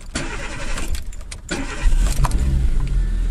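A car engine cranks briefly and catches, settles into a low idle, and keeps running steadily near the microphone.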